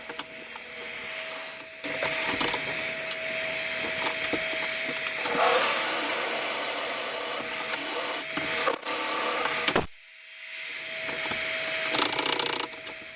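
A 38mm Forstner bit bores into a yew wood goblet on a lathe, giving a steady grinding, rasping cut that swells louder midway, then stops abruptly before a lighter scraping resumes.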